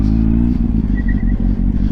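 A 20-year-old motorcycle engine drones close and loud, a steady, throbbing exhaust note held through the short stretch as the bike accelerates.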